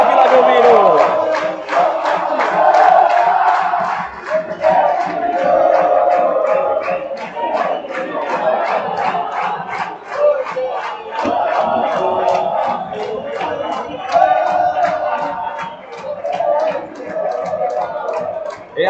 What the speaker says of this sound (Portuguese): É a torcida fazendo a sua festa, é a galera feliz da vida